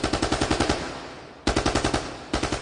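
Rapid bursts of gunfire in a Hindi crime audio drama, where shots ring out at lightning speed: two loud volleys of automatic fire with short evenly spaced cracks, separated by a brief decaying tail of reverberation.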